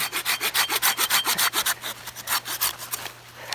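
A Silky Pocket Boy Japanese pocket saw cuts through wood in quick, rhythmic push-pull rasping strokes, loud and close, about a dozen strokes slowing slightly toward the end.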